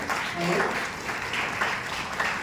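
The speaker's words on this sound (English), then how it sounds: "So that deserves a big round of applause." An audience at an interview-style talk session gives a round of applause: a continuous, moderately quiet patter of clapping lasting the whole stretch, with faint voices beneath.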